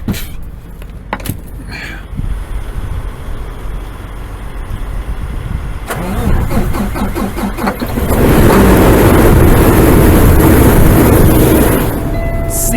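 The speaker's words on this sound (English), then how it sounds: "All right, we're out to the truck. See if it'll start." A truck engine cranks and catches on a frigid Wyoming morning at ten below, turning over roughly before settling into a loud, steady idle close by, with no talk over it.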